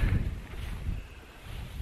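Gusty wind on the Cribyn summit in the Brecon Beacons buffets the microphone with low, uneven rumbling that swells and fades in waves.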